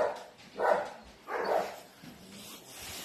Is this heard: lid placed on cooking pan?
no